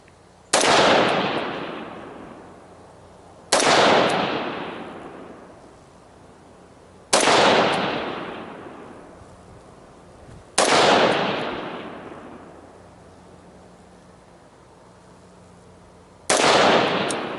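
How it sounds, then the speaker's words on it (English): Rifle shots fired on a shooting range during an intermediate rifle and carbine course. Five loud, sharp cracks come at irregular intervals of about three to six seconds, each followed by a long ringing echo, with no speech. "Okay, we're gonna shoot 5 shots."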